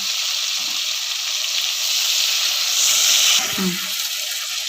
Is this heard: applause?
no